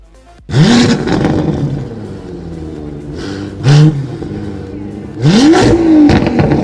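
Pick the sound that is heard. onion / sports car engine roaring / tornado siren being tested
sports car engine roaring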